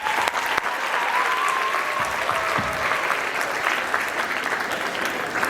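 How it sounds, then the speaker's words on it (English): Audience applause at a school anti-bullying assembly, a dense, steady wash of many hands clapping at full volume for the whole stretch, with faint voices mixed in. "Please, can we clap for him?"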